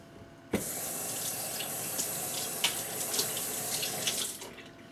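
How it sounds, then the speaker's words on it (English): Water from a household kitchen tap gushes steadily into a sample container. The flow starts abruptly and runs loud and close for several seconds with small splashes, then tapers slightly at the end. No one speaks. "pull a sample from my tap, fresh right out of the tap there"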